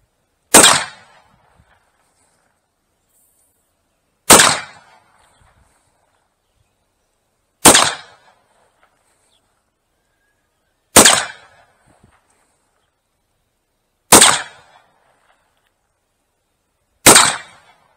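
Six loud, sharp muzzleloader shots fired with black powder and Pyrodex, evenly spaced about three seconds apart, each a single crack with a brief decay and near silence between.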